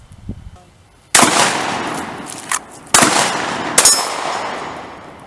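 Gunshots on a shooting firing line: three loud, sharp reports about a second or more apart, each with a long fading echo, plus a smaller clank between them.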